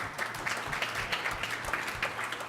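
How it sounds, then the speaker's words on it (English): Audience applause at a keynote speech, a brisk round of clapping with audible individual claps, lasting a couple of seconds at moderate volume. "Again, round of applause for Carrie and what she did here."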